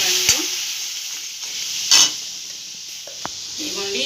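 Blueberry paste sizzles in a pan on the stove while a spoon stirs it, a steady frying hiss broken by a few scraping clicks against the pan.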